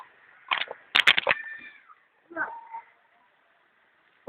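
Several short, high cat meows come in close bursts, then a softer drawn-out mew, with an outdoor pause between calls and a final brief cry at the end.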